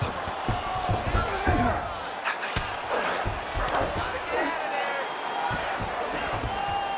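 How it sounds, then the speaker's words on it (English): Arena crowd at a UFC fight between Kamaru Usman and Joaquin Buckley roaring and cheering in loud swells, with thumps from the action and a commentator talking over the noise. "The crowd's going crazy because they appreciate high-level mixed martial arts"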